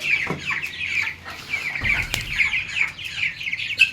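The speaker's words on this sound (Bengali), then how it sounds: "এখন আমি মুরগিগুলো ধরি" A chicken clucks and squawks repeatedly at close range, with short agitated bursts and a few bumps and rustles around it.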